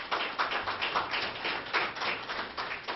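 Audience at the official launch of a census of Togolese living abroad, clapping in a soft, steady patter with a gently pulsing rhythm.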